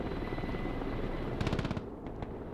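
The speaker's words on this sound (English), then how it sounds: "And they shot down our helicopter" A Mi-38 helicopter in the Broken Arrow war game thrums steadily while a quick burst of rapid gunfire rattles through and a couple of sharp shots follow as it is brought down.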